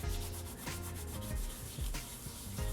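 Dried lavender buds being ground for shortbread dough, a steady close rubbing and scraping with repeated gritty strokes and no talk over it.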